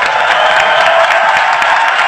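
Steady, dense applause from an audience at a party congress, continuous clapping filling the hall at close range without pause.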